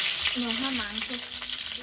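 Food fries in a home kitchen pan with a constant bright sizzling hiss throughout, while a voice is briefly heard over it.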